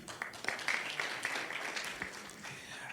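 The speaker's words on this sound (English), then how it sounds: "Another round of applause for him." A youth forum audience gives another round of applause for a solar water heater presenter, soft scattered clapping that holds steady throughout, with a faint ringing tone above it.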